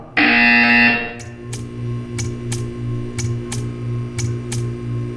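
Portal 2 video game buzzer: one loud, harsh electronic buzz lasting about a second, then a steady hum with a regular series of sharp ticks.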